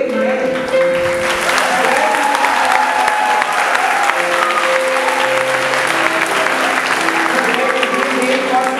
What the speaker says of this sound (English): Can we have a huge round of applause for these brave men?